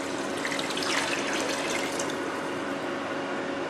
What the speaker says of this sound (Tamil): அந்த கப்பால் 3 கப்பு தண்ணி ஊற்றணும்.